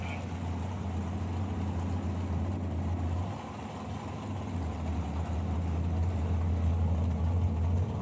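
A Deleuze Hot Rod Shop Chevy Nova drag car runs at a bracket drag race. Its deep engine rumble holds steady, dips briefly, then swells again, with faint voices in the background.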